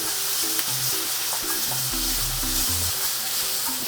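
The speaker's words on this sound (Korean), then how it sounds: "센 불로 볶았기 때문에 숨은 죽었어도 물기가 없이 볶아지는 걸 보실 수 있을 거예요" Vegetables stir-fried with chili over high heat sizzle loudly and steadily, with continuous tossing and scraping in the pan and no voices.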